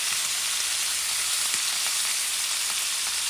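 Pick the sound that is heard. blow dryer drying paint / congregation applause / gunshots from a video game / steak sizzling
steak sizzling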